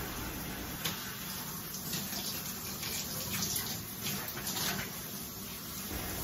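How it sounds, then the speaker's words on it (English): Shower water streams steadily while hair is rinsed, a close, continuous hiss and splash of running water with small shifts as the spray hits hair and body, no talk. "I'm also rinsing out my hair"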